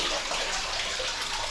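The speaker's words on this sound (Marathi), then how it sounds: "पाणी चालू ठेवलेलं कारण वॉशिंग मशीनमध्ये टाकायचं आहे" Tap water running steadily to fill a washing machine, a continuous bright splashing hiss at moderate level, heard alone without talk.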